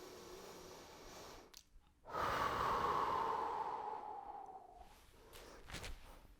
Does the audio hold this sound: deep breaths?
yes